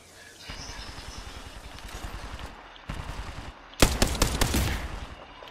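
Rapid bursts of gunfire from an Apex Legends battle, steady shots at first, then a break and a louder, denser cluster of shots near the end, with a voice talking over it.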